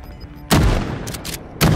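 Two loud, close shotgun blasts ring out in a video game, one at the half-second mark and another near the end, with lighter shot-like bursts in between.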